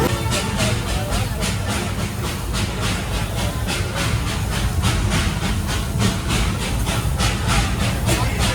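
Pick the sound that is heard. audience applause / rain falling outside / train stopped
train stopped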